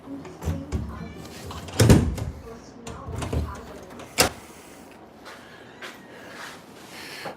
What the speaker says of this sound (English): Oh, I gotta shut the door.